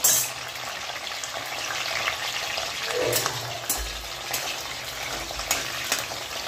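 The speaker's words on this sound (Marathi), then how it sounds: "छान अशी तेलामध्ये तळून घ्यायची आपल्याला मिरची." Chilies frying in hot oil for a hotel-style pav bhaji give a soft, continuous sizzle and crackle with a few light clinks and stirring noises, fairly quiet and with no talking.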